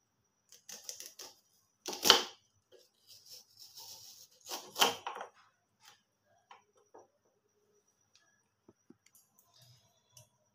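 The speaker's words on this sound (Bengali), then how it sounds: "এই যে আমি এগুলোকে কাটছি, আমি এটা থেকে রিং বের করে নেব।" A knife slicing onions into rings for crispy onion pakoras, heard as a few sharp close cutting strokes against a board, two of them prominent, with lighter taps between and quiet gaps after.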